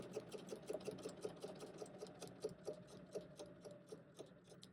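A sewing machine stitches a quilt in a quick, even run of needle ticks, close and quiet, with no voices.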